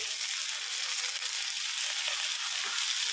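Slit green chillies and half a tomato sizzle loudly in a frying pan, a dense steady crackling hiss held at close range from start to finish.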